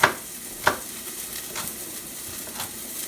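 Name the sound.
onions frying in a pan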